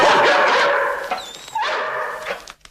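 A dog barks and yips close by in a short burst, then gives a brief whimpering whine before fading out.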